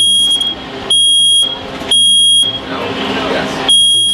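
A smoke alarm, set off by a faulty washing machine, sounds loud piercing beeps in repeated long bursts with short gaps between them, while faint voices carry underneath.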